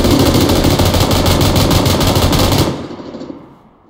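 Sustained rapid machine gun fire in the PUBG Lite game, loud and close for about two and a half seconds before cutting off into a fading echo.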